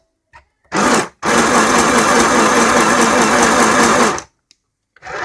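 A Hema sewing machine stitching a zigzag, a loud steady mechanical whir lasting about three seconds after a short burst, then stopping.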